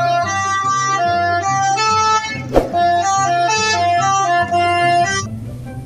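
A toy bus plays a telolet horn melody, a loud, bright, multi-tone electronic tune that runs steadily for several seconds with brief pauses between phrases. A sharp click lands midway through, and the tune fades slightly at the end.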